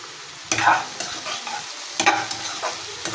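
Chopped onions sizzle in mustard oil while being stirred, with two sharp scraping stir bursts and smaller spatula strokes over a continuous close frying hiss.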